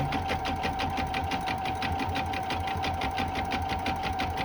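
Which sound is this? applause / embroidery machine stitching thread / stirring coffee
embroidery machine stitching thread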